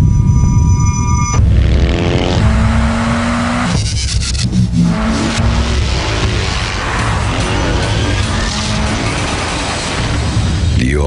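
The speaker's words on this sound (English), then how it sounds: "New 2007 Suzuki XL7. It's as fun to drive as our bikes." A 2007 Suzuki XL7 SUV drives and accelerates, its engine rising loud and steady under an upbeat music bed with a brief tire-squeal edge.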